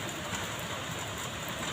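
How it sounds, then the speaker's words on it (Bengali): Steady rain pattering outdoors, a dense even hiss of drops with no pause, moderately loud and continuous. "দেখো কেমন বৃষ্টি পড়ছে, টুপ টুপ করে টিপ টিপ করে কেমন বৃষ্টি পড়েই চলেছে।"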